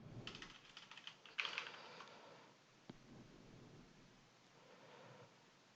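A password typed on a computer keyboard: a quiet run of light key taps clustered early, with one sharper click a little later, faint and close in an otherwise hushed room.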